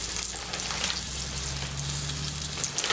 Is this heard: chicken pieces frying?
yes